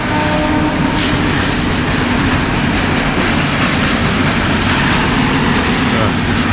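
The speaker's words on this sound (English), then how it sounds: "Oh wait, there's a train passing." A local train rumbles past close by in Sri Lanka, loud and continuous, with rolling wheel noise and a steady clatter filling the whole stretch.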